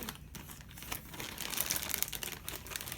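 A crinkly plastic package is crumpled and handled close up in a hospital room, giving quiet, irregular crackles and rustles in short bursts, with no talk.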